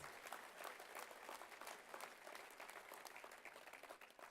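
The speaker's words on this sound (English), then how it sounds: "We can give them a round of applause" A dinner-event audience gives a round of applause for mentors, a dense, continuous patter of many hands clapping at a moderate distance, steady throughout without voices over it.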